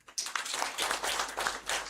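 Workshop audience claps steadily in dense, continuous applause, close and fairly loud, after a brief quiet start.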